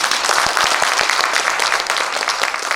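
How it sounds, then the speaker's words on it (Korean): Audience applauding at a citizens' town-hall meeting in Areum-dong, a dense, steady wash of many hands clapping close and loud for the whole stretch, with a few sharper individual claps near the start. "박수 한번 쳐주세요."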